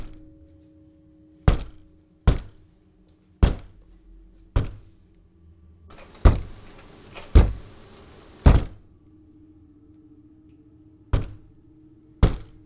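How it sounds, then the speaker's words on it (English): Heavy knocks on a door land singly and in short pairs, about ten dull thumps spread across the stretch with quiet gaps between them and a faint hum beneath. "Someone knocking on the door."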